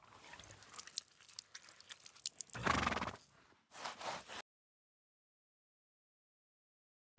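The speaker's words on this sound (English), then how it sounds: "Here is your horse." A horse neighs loudly in Kingdom Come: Deliverance 2, a drawn-out whinny with some hoof and chewing noises around it. Two bursts come close together, followed by silence.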